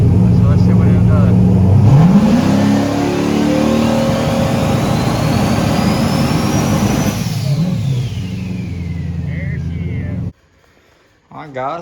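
A turbocharged car engine fitted with a GTR88 turbo revs loudly and close by, climbing steadily in pitch under boost while a rising turbo whistle sweeps above it. The engine then drops off, and the sound cuts out near the end.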